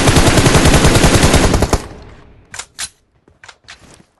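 Gunfire from a team-based shooter video game opens with a loud, dense burst of rapid automatic fire, then breaks into a few scattered single shots over the last two seconds.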